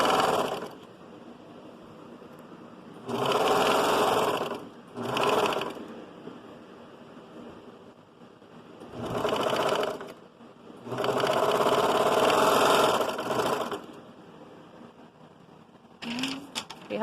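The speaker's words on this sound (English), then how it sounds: "Again, I'm working on the serger." A serger sewing machine runs in several short bursts of rapid, buzzing stitching, separated by quiet pauses with faint handling noises.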